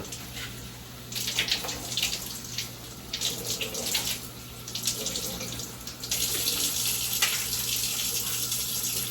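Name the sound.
tap water rinsing strawberries in sink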